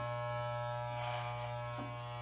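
Steady electric buzz from a Wahl hair clipper in a self haircut, close and constant, with faint shifts as the blades move through hair.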